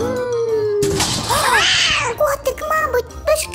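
A cat meows loudly and close, with one long rising-and-falling meow followed by a few shorter calls, and a brief voice in the background.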